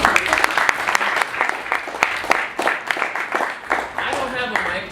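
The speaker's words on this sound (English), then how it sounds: "Another round of applause for them." An audience applauds a panel after a community discussion, with sharp individual claps standing out from a moderately loud, uneven round of clapping that carries on for several seconds.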